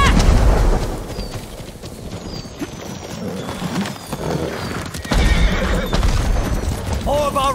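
Horses in the Ghost of Tsushima video game neigh and whinny over pounding hooves during a mounted retreat, with rumbling booms and shouted voices mixed into the busy battle scene.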